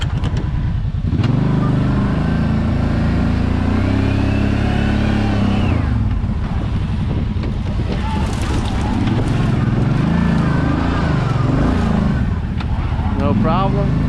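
A Brute Force 750 ATV on Elka shocks climbs through a steep ditch, its engine loud and constant, revving up and down, with heavy wind buffeting the microphone throughout.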